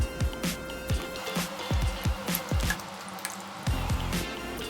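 Borax coffee slime is stirred close up, making repeated wet squishes, clicks and sticky pops in an uneven rhythm over a few seconds.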